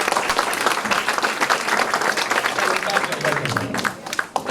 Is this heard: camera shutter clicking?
no